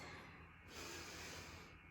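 A single forceful exhale during a back and abdominal workout, a breathy rush of air blown out close to the microphone, lasting about a second amid steady breathing.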